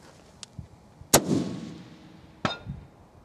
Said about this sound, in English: First time shooting this rifle.